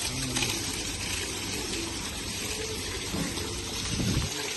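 Continuous rushing of water being poured or running while washing a Jeep Rubicon, a steady close gush with faint background murmurs.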